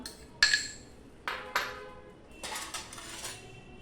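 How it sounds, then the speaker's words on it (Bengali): Ingredients and an egg tipped one by one into a bowl, producing a few sharp clinks and taps of utensils against the dish, then softer rattling; no talking. "এবার এক এক করে বোলের মধ্যে সব কিছু আমি ঢেলে নেব"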